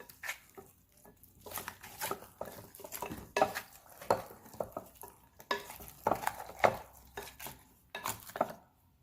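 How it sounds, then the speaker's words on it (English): A spoon stirs lamb stew in a metal pot with repeated scraping and clinking strokes in an uneven rhythm, close and moderately loud, with light sizzling under it and no talking. "Let's go ahead and give this a good stir."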